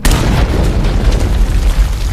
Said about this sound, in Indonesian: Dan sampai akhirnya dinamit yang mereka pasang pun meledak.